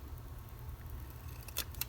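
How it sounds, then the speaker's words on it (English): Scissors cut around a sticky sticker with two faint, quick snips near the end, heard over a low background hum in a quiet room. "stickers can be hard to cut around because your scissors stick"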